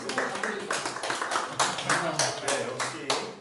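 Church congregation claps together in a steady rhythm, about ten crisp claps in unison, moderately close, with voices present among them.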